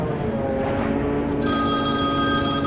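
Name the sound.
telephone ringing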